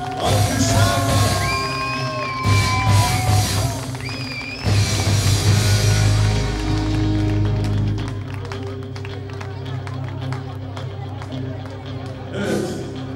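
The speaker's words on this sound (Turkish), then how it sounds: "Damat bey babasını alkışlıyoruz. Alkışlar." Wedding guests applaud the groom's father in a busy hall, a continuous crowd clapping mixed with cheers, music and talking voices, fading slightly toward the end.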